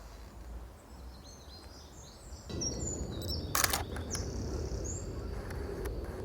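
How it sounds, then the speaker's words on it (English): A small wren bursts into loud, rapid song outdoors beside a river lock on an island, its bright high trills rising over steady rushing water and faint background noise. "Some wren just flew by. That's probably the loudest bird you can hear."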